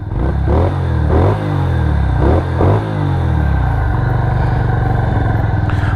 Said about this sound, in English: So let's fire it up and let's take it around town and see how she does.